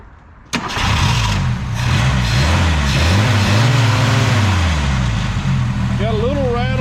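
A 1972 Ford Pinto Runabout engine, with freshly adjusted timing and carburetor, cranks and fires, then revs up and down repeatedly, loud and close, with a raspy rising and falling tone and someone talking over it.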